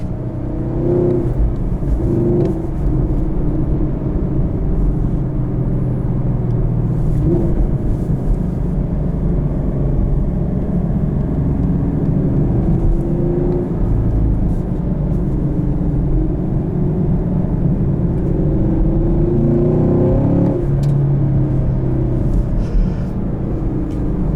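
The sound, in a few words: wind buffeting while driving a 2017 Chevrolet Camaro SS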